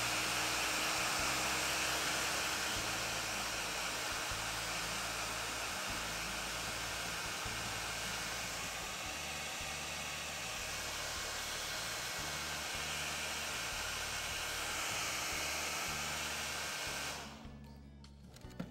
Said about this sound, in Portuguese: vou lá passar novamente esse secador.